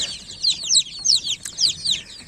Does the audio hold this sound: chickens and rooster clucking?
yes